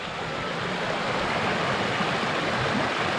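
River water at Doctors Creek near Jamieson rushes in a steady, loud, broadband wash that holds unbroken throughout, close by with no voices over it.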